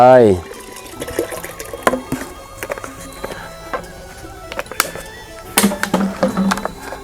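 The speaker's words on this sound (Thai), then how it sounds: "น้ำหมักหรือจุลินทรีย์เปลือกมังคุด ลงไป" Fermented mangosteen-peel microbial liquid is poured into a compost mix, giving a wet splashing trickle in short bursts with scattered clatter, and someone talks over it throughout.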